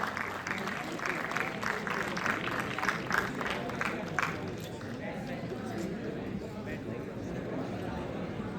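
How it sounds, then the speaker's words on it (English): Applause from an audience at a college event honouring a guest speaker, clapping fairly quiet and distant, with talk over it, fading into murmur toward the end. "Please give a huge round of applause for Neeraj sir."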